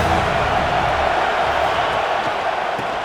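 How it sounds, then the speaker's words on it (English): A stadium crowd in the College Football 26 video game roars steadily at Ohio State on third down, a loud continuous wash of cheering and noise for the whole stretch. "Hang on, Swoopy, the Buckeye crowd alive on third down."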